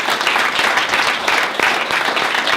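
Conference audience applauding Peter Cameron at a community investment event, dense, steady clapping throughout at fairly close range.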